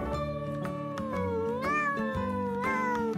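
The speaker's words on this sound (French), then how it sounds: "Et le chat." Domestic cat on a farm giving a series of clear, close meows, several drawn-out calls rising and falling in pitch, heard alone.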